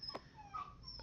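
A dog in The Sims 4 whimpers while staring out a window, a faint, brief, high whine in a quiet game scene.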